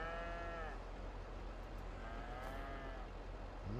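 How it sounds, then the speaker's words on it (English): A cow moos twice inside Farming Simulator 22, the long lowing calls sitting over a steady hum of game ambience, moderately close with no talking. "Moo cow."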